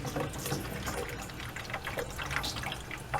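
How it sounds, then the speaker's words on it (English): Hot water running from a bathroom sink faucet with low pressure while the plumbing is being installed, a steady close splashing and trickling stream with faint drips throughout. "Aha, here's the hot water."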